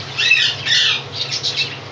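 A small pet parrot gives a few sharp, close squawks in quick succession, loud and shrill, with a faint low hum behind.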